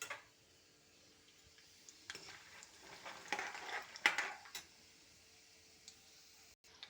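Peanuts, dal and coconut fry together in oil for chivda, giving a low steady sizzle with a few louder scraping stirs around the middle, then settling back to a faint hiss.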